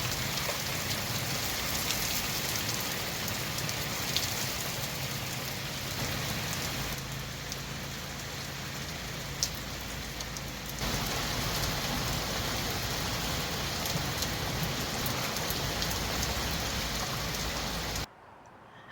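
Steady rain falls on a garden meadow, a dense, continuous hiss of drops that holds constant throughout before cutting off abruptly at the end.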